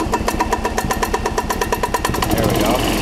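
A 1994 Club Car DS gas golf cart, with its starter generator fixed and voltage regulator replaced, cranks and catches: rapid rhythmic chugging of a small engine that settles into a steady running rumble.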